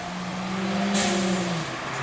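A Ford Fiesta fitted with a new downpipe and exhaust makes a tight three-point turn, its engine note rising and holding steady for a moment before easing off, heard fairly close with no talking.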